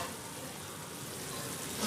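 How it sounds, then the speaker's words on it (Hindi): Masala frying in oil in a covered pan, a steady close sizzle that holds evenly throughout and swells slightly at the very end. "और इसको कुछ देर भूनने देंगे ताकि इसका ऑयल रिलीज़ हो जाए।"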